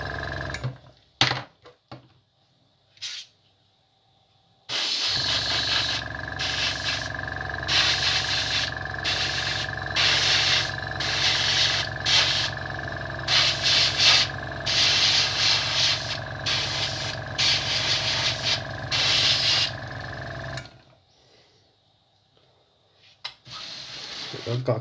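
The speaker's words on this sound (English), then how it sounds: "My compressor running across the table." An air compressor runs on a table while an airbrush paints a G1 Optimus Prime model. A loud, steady hiss with rhythmic pulsing lasts about sixteen seconds, with brief quiet handling noises before and after.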